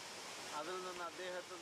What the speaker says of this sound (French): Près d'une cascade, le son et le rythme de l'eau sont toujours constants.